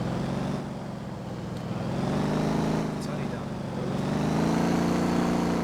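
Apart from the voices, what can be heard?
car engine driving in video game Motortown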